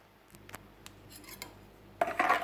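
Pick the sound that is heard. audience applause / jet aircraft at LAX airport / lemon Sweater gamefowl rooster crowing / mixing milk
mixing milk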